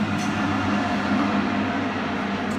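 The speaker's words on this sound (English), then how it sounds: "and now we're gonna go to the train" A train rolls steadily with a low rumbling drone and faint rail clatter, heard from on board at moderate volume.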